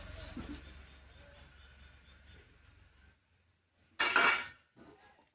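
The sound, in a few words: pot being covered with a lid while mutton cooks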